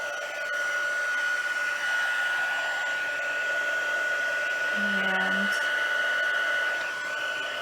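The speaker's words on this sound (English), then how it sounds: "I'm going to go ahead and heat that up with my heat tool. Apologize for the noise." An embossing heat tool blows hot air with a steady, high-pitched whine and rushing hiss; a brief spoken word breaks in partway through.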